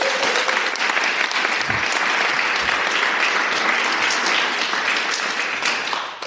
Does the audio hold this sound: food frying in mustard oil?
no